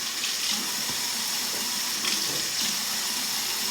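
Steady hiss of water spraying as a glueless wig is wet down, continuous and close with slight surges, with no talking over it.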